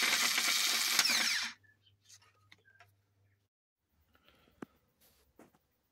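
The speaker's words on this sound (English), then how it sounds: "There's a lot of clanking and jangling, but it works and will do the job quite nicely." A homemade electric reverse mechanism with a moved pulley runs with a loud mechanical clatter for about a second and a half, then cuts off, leaving scattered faint clanks, ticks and jangles.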